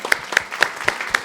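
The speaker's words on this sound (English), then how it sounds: "Clap it up for us, guys." Rhythmic clapping, a few sharp claps landing on a steady beat, close and fairly loud.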